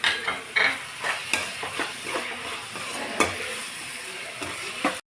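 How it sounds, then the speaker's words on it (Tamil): Masala with garlic paste being stirred and fried in a pan for egg roast, with repeated scraping strokes over a soft sizzle, close and fairly loud, ending abruptly. "நல்லா கிண்டி விடணும்"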